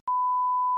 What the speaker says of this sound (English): That's my phone alarm going off.